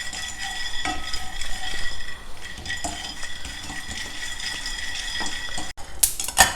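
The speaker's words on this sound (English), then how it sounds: "First, we'll roast some peanuts, say about 2 tablespoons of peanuts." Peanuts, about two tablespoons, roasting in a pan for a raw mango chutney, with steady clinking and scraping of a utensil stirring against metal and faint sizzling throughout, plus a brief louder clatter near the end.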